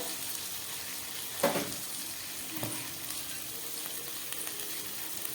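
Chicken coated in oil, turmeric and salt frying in hot oil in a pan, a steady dense sizzle with a couple of louder stirring knocks early on, alone and moderately quiet.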